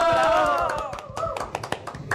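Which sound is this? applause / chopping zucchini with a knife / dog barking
applause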